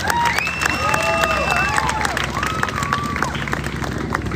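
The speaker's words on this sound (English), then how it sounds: "Please a big round of applause for Chelsea." An outdoor crowd at an Easter arts festival street magic show claps and cheers for a volunteer, loud dense applause with whoops and high cheering voices rising over it, then settling into continued clapping.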